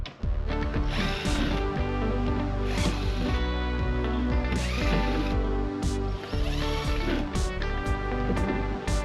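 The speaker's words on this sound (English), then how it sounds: "First we're going to do is just remove some Torx screws." A ratchet removing Torx screws from a Ford Super Duty truck, with repeated close clicking pawl sounds in quick bursts and brief pauses between turns.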